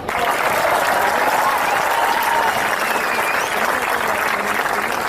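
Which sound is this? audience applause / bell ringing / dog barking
audience applause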